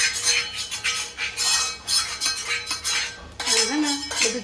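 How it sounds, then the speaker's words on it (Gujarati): A metal spoon clinks and scrapes against a pan as soybean chunks are tipped into gravy and stirred, with repeated close scraping strokes and a few sizzling, clattering moments. "હવે એની અંદર સોયાબીન નાખી દીધા."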